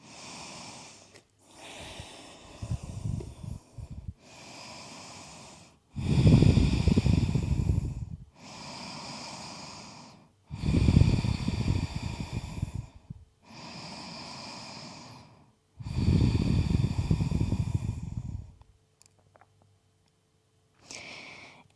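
Slow, deep breathing during a yoga forward fold: long audible inhales and exhales alternate in a steady rhythm, close to the microphone, with the exhales louder and breathier and no talking.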